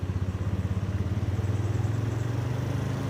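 A Suzuki Skydrive scooter engine close by, pulsing rhythmically at idle and then revved slightly with the throttle so the hum rises and steadies, with no talking.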